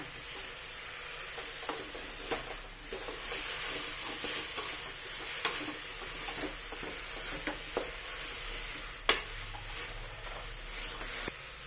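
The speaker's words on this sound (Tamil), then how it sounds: "ஸோ இதையும் வந்து இப்போ நல்லா நம்ம வதக்க போகிறோம்" Mint leaves sautéing in a pan while making mushroom rice: a continuous close sizzle with scattered stirring scrapes and one sharp clack near the end.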